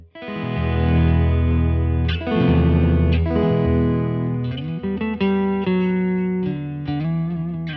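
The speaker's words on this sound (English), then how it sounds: "I also have the double tracker activated on the Strymon Deco, which gives you a really nice stereo spread on the signal" Electric guitar run through a Strymon Deco tape saturation pedal with its double tracker engaged, giving a wide, doubled, slightly saturated tone; sustained chords ring out loudly with several fresh strums across nearly eight seconds, no voices.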